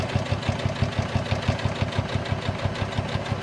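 A sewing machine stitches a make-up bag seam with a fast, even run of needle thumps, close and steady throughout, with no voices.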